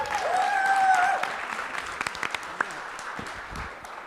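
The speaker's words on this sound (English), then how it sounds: "A round of applause for Oklahoma State Thunder." An awards show audience breaks into applause, a dense burst of clapping that tapers into scattered claps, following a brief musical sting.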